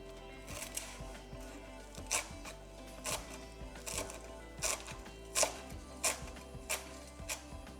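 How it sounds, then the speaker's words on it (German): Fresh parsley being chopped with a knife on a board, close, crisp irregular knocks of the blade landing in quick clusters. "Nur noch die frische Petersilie hacken"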